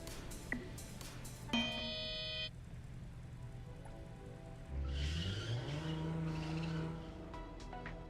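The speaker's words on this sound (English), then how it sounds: "It's like so painful to drive through that in the snow. The thing keeps skidding." A car in a video game struggles through snow, its engine droning while the tires skid and squeal in drawn-out rising whines, alongside a few synthetic interface tones, all heard without speech.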